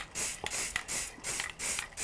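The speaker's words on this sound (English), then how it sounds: "I'm just going to spray this again with a light touch" An aerosol spray can hisses in four short, even bursts close up, each a bright rushing spray separated by brief pauses, applied lightly over a sign layout.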